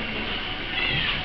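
A cat meows in a rural village setting, a short, close call rising over steady background noise.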